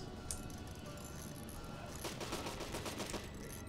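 Rapid gunfire crackles in the zombie survival video game Deadly 30, with a sharp shot early on and then a dense burst of rattling shots over the last couple of seconds, steady and fairly loud.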